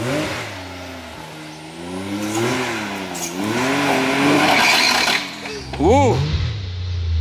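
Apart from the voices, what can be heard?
UTV engine revving on hill climb, visco lock failing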